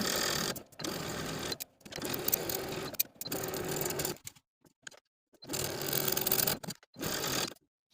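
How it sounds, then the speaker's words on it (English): A sewing machine edge stitches lace dress fabric in short bursts of rapid needle whirring, about five runs separated by brief pauses, close and clear with no talking. "Now take it to your sewing machine and edge stitch close to this inner fold all the way across from center back to center"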